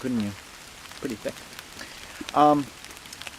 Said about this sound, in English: It's starting to rain out here.